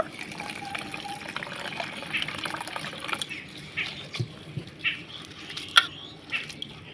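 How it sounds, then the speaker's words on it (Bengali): Flattened rice (chira) is washed with water in a bowl: continuous pouring and sloshing water with small splashes and a few brighter drips, close up and fairly loud. "এখন আমি জল দিয়ে চিড়াটাকে ধুয়ে নেব"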